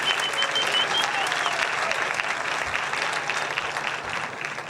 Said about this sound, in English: Please give Richard Rodriguez another round of applause for that trombone solo